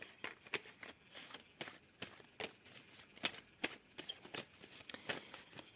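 Tarot cards shuffled by hand before a reading, giving a steady run of crisp riffling snaps and slaps, close and fairly quiet, with no talk over them.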